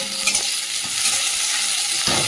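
Vegetables and green chilli frying in oil in a pan make a loud, close, steady hiss with faint stirring taps, swelling slightly near the end.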